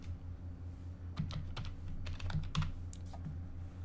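Typing on a computer keyboard, with quick irregular clicks of keys at close range over a low steady hum, and no voice.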